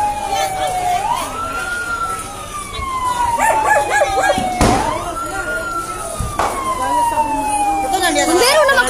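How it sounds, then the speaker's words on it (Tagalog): A fire truck siren responding to a house fire in a Cebu neighborhood wails loudly and close, its pitch sweeping up and down in repeated cycles, with sharp bangs and crowd noise mixed in. "Bumbero na makana."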